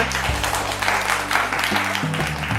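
Clapping from an audience at a family quiz contest in a Senco jewellery store in Nagerbazar, a brief dense burst of applause heard close and loud throughout.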